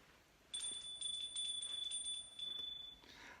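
A small, high-pitched bell rings in a Macbeth audio reading. Its bright, repeated strikes sustain for about two and a half seconds, heard alone against a quiet background.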